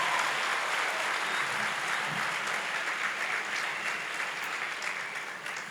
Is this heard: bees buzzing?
no